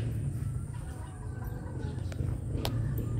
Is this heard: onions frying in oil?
no